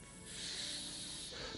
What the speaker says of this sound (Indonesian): Ular juga keluar.